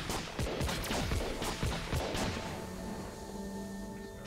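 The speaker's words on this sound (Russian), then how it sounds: "Странная стрельба немножко." Rapid bursts of gunfire in the co-op space platformer video game Farlight Commanders, with sharp cracks and booming impacts, then a fading electronic hum as the shooting stops.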